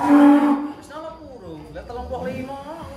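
A giant contest cow lowing near a livestock scale at a cattle weighing, a drawn-out moo heard close alongside people talking.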